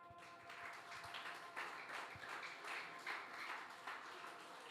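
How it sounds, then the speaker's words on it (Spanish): Church congregation applauding during a pastor's sermon, a faint, distant wash of many hands clapping that pulses in uneven waves for several seconds, with a few sharper taps beneath. "Gracias por los aplausos."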